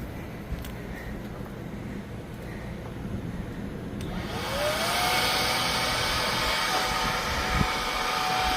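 A Gochifix leaf blower on an RV roof clears pine needles; after a few seconds of faint outdoor background, a steady loud whooshing airflow kicks in with a rising whine and holds evenly to the end.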